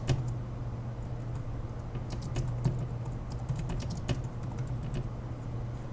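Steady typing on a computer keyboard, quick soft clicks in an irregular patter over a constant low hum, close and moderately quiet, no voices.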